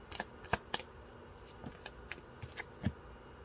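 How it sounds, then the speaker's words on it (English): Tarot cards are shuffled and drawn close by, giving quiet, soft riffling flicks and scattered card slaps in irregular bursts, a few sharper snaps among fainter rustles. "Let me get one more card, and then I'm going to pull some other cards out."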